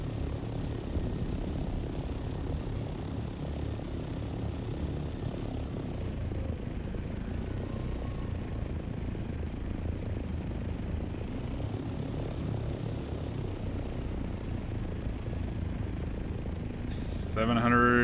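Aircraft flying in the video game Dune: Awakening, a steady droning engine and propeller whir at moderate level throughout, with a brief brighter blip near the end.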